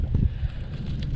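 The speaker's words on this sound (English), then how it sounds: "that's just too windy" Steady low rumbling wind of about 17 to 18 miles per hour buffeting the microphone, fairly loud and continuous throughout with no voices.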